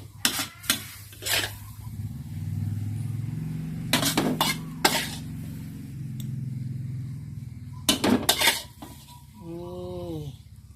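Clattering of a utensil against a pan and plate while stir-fried long beans with minced pork and Vietnamese pork sausage are served, a few sharp scrapes and clinks over a low hum, ending with a brief tonal note.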